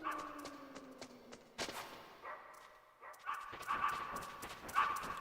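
A dog in the Metal Gear Solid video game barks in several short, sharp bursts over a few seconds, mixed with steady game ambience and effects.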